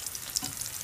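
Chicken lumpia fry in a pan with a soft, steady sizzle and a faint stir, low and brief, with no voices.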